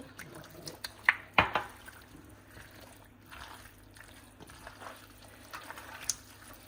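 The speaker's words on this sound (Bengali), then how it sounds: "বাকি তেল এখন দিয়ে দিচ্ছি" Remaining oil trickles into a hilsa fish marinade, giving soft, faint drips and a brief pour near the start, then quiet, scattered liquid ticks.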